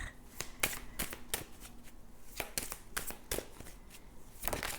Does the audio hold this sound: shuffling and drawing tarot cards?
yes